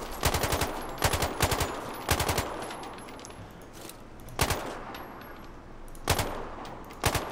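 Rapid bursts of automatic gunfire ring out in short, sharp volleys separated by brief pauses, with several clustered shots and then single cracks, at shooting practice in the video game Sniper Ghost Warrior Contracts.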